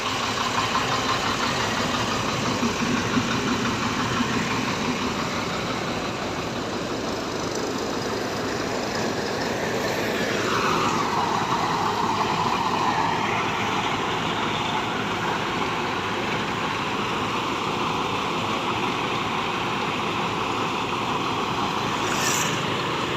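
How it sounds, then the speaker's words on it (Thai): A heavy engine on a large rice harvester runs continuously with a steady, rumbling drone, its pitch dipping and shifting midway as the load changes. "เสียงเครื่องครับ สุดยอดมาก"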